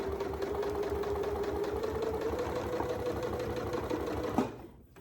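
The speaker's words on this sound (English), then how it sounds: "this machine just sews so beautifully" Janome Memory Craft MC9450 sewing machine running a plain stitch, a fast steady mechanical whir and rapid needle ticking up close, stopping abruptly with a clunk near the end.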